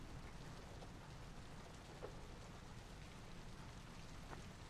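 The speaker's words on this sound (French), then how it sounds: "Ouah, il pleut des cordes, hein." Downpour of heavy rain in the video game Little Nightmares II, a faint, steady hiss of falling water with a few scattered drop patters, continuous and without talking.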